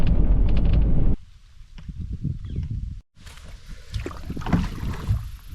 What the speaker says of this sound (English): in the old town, I got a little over a 2-mile paddle